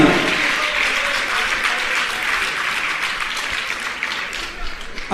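Applause from an audience at a Jain religious question-and-answer gathering, a dense, sustained wash of clapping lasting several seconds, fairly loud, with a bit of crowd murmur beneath.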